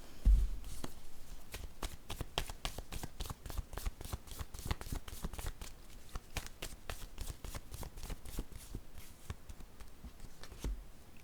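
Tarot cards being shuffled by hand, a close, quick run of crisp repeated riffling flicks at a steady rhythm, fairly quiet, with no speech.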